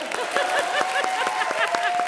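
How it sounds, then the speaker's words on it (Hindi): A studio audience and a judge clap on a Hindi comedy show stage, a brisk, fairly loud run of steady claps over a sustained musical tone. "जोरदार तालियों के साथ स्वागत कीजिए सुदेश एंड सुदेश का"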